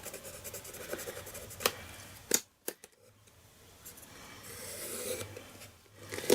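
Pen or stencil tool drawing on a decorative mask template, with dry scratching and rubbing strokes, a few sharp clicks, and a brief silent pause in the middle.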